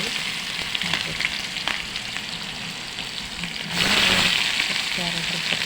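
Onions frying in hot oil with cumin seeds, mustard seeds and curry leaves, a steady close sizzle that swells louder partway through as more goes into the pan.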